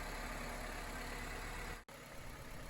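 A 1996–2000 Honda Civic engine idles while warming up after a thermostat replacement, a faint steady hum with a brief dropout partway through.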